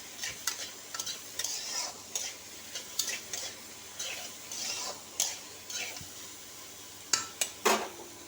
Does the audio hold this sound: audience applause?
no